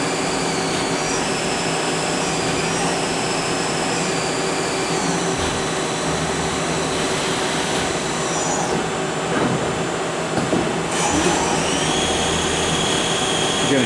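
A Hardinge Quest 8/51 two-axis CNC lathe with tailstock and live tooling machines a part, giving a steady, dense mechanical roar with a high whine that holds throughout at a close, even level.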